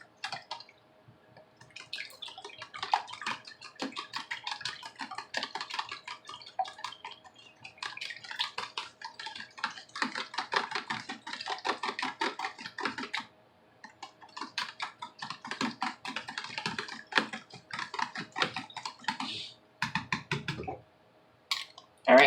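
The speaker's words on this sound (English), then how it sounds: "I'm going to add my milk, and I'm going to go ahead and just mix this together" Eggs and milk whisked together in a bowl for French toast, heard as a fast, steady run of close clicking and tapping strokes in bursts, with brief pauses between them.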